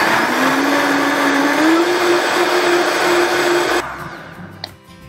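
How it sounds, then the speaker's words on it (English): A blender purees vegan creamy potato soup with a loud, steady whirring motor that climbs slightly in pitch, then shuts off abruptly, leaving a faint clink and quiet. "we're going to start it and we're going to puree this part of the potato soup"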